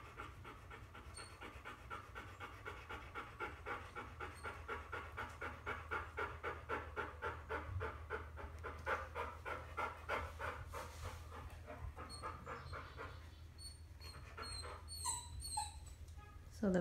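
A Kerry Blue Terrier puppy pants quickly and rhythmically close by, with faint whimpers and yips near the end; quiet voices are briefly audible.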